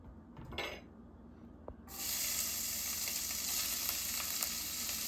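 Chopped onions hit hot olive oil with a sudden loud sizzle after a few quiet clinks of a pan, then fry in a steady bright hiss to the end, with no talk.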